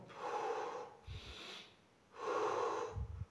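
Two slow, deep breaths, each a long airy inhale followed by a shorter exhale, taken close to the mic during belly breathing practice for jiu-jitsu, with quiet pauses between them.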